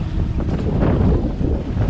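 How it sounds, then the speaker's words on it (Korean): Strong wind buffets the microphone aboard a fishing boat far out at sea, a steady, loud roar with low rumbling gusts and no voices over it. "갑자기 바람 불어"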